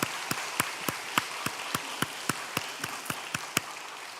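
A church congregation claps in unison, sharp claps falling at a steady, even beat over a soft, hissing room background.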